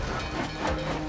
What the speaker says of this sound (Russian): Поезд императора прибыл в Псков.